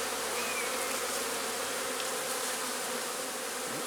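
Honeybees buzz steadily and densely around a hive during a UK inspection with a cutout colony, a continuous busy drone close by with no talk.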